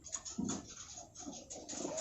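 Young pigeons make soft, low cooing calls in short repeated bursts close by, with faint scratching and rustling in between.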